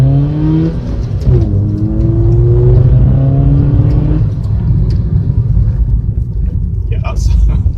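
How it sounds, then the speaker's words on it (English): Ford Fiesta 1.25 engine intake noise while driving on scenic roads, a loud continuous rumbling drone rising and falling through gear changes, heard close from inside the car. "some lovely intake noise."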